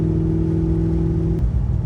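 A car engine fitted with a Vararam VR-B2 intake revs hard, a loud steady droning roar with a strong tone that drops and shifts near the end.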